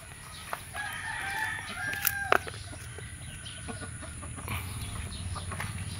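A Shamo rooster crows once, with a strained rising call, moderately near amid ambient farmyard noise and a few sharp clucks or knocks.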